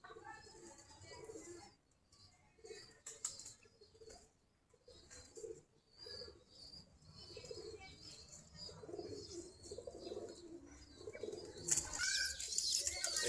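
Pigeons feed their chicks in a loft, giving soft cooing, chirps and wing flutters at low volume with rustling and scattered activity, plus a brief sharper flurry near the end.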